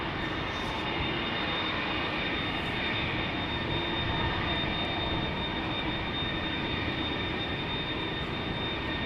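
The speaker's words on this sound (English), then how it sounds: "Delta Airlines Flight 161 lined up right now, ready to go to Minneapolis, Minnesota" At Amsterdam Schiphol Airport, the jet engines of a Delta Airlines A330-300 lined up for departure give off a loud, steady roar with a broad rushing hiss and a faint high whine, heard alone without talk.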